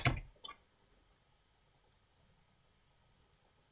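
Typing on a keyboard: a few sparse, quiet clicks spaced irregularly, a sharper tap at the start and isolated keystrokes after, in a quiet room with no talking.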